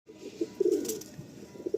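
Andhra pigeons give soft, close coos in a few short, low, throaty phrases over a quiet background.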